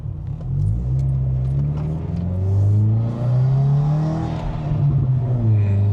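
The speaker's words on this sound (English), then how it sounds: "You can hear the turbo spool in the car" A turbocharged Subaru WRX revs nearby, its engine note rising and falling in smooth sweeps with a deep rumble underneath and a faint hiss of turbo spool.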